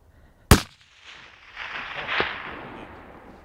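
Single sharp rifle shot while hunting outdoors, a loud crack followed by a rolling echo that swells and fades across the next few seconds.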